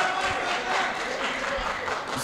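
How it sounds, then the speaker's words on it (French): Audience at the opening ceremony of a terms-of-reference validation workshop applauds in a steady wash of clapping, with a voice talking over it. "Les applaudissements, c'est bon dès le début, ça suffit maintenant."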